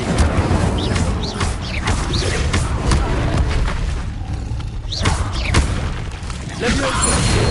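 Fire spells being cast in Hogwarts Legacy: repeated booming bursts and crackling impacts over a dense game soundscape, with a voice shouting spell names between them.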